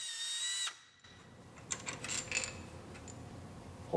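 Power tool whirs close up while unbolting the crankshaft pulley on a GM 2.4 engine, a few uneven bursts of ratcheting and mechanical clatter with a sharp knock at the end, no talking.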